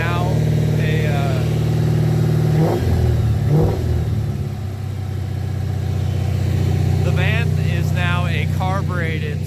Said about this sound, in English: a carbureted small block Ford V8